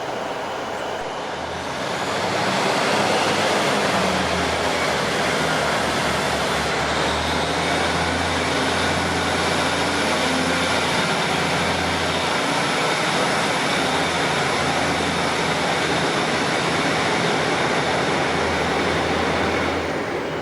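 A heavy train engine rumbles steadily with a low droning hum, reversing slowly and continuously into a yard nearby, with no voices.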